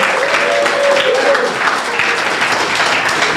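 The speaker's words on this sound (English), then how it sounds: "Let's do one more round of applause for the Hong Kong class," Steady applause from the audience at a startup demo day for the Hong Kong class, dense and sustained across the whole stretch with a faint voice or tone running underneath.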